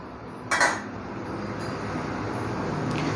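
A metal lid lifted off a plate idli steamer after fifteen minutes of steaming, one brief clattering clank followed by a steady hiss of escaping steam and kitchen noise.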